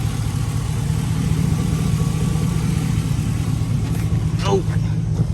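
A truck's 5.3L LS V8 idles steadily with a low, even rumble, close by and loud, holding a constant tone throughout.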